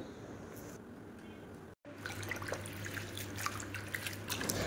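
Water dripping and trickling as leafy greens are rinsed, a steady wet patter with a brief dropout, heard throughout at moderate level with no talk.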